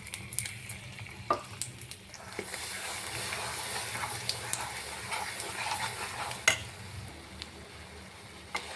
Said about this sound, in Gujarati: આપણે હવે તેમાં દૂધની મલાઈ નાખી દેશો અને હલાવી લેશો